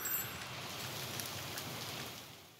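Steady rain falls outdoors by a lake, a dense, even hiss of drops striking surfaces that holds level for the whole stretch without pause or voices.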